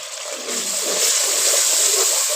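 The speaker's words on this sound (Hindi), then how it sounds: "थोड़ा सा इसमें बनाऊँगी पानी का छींटा" Water is splashed into a pan of chicken curry masala with turmeric, giving a steady loud hiss and sizzle that runs on without a break.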